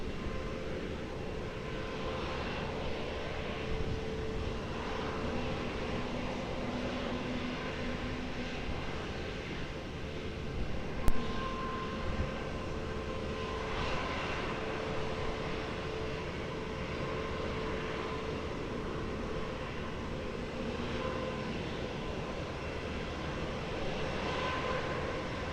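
Airplanes at Lisbon Airport produce a continuous, moderately distant roar of aircraft engines that holds steady throughout, with a brief sharp click midway.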